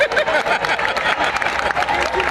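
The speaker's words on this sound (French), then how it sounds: "On applaudit pour vous et pour le candidat O." Crowd at an outdoor political campaign meeting applauds and cheers for a candidate, a dense steady wash of clapping and voices filling the whole moment.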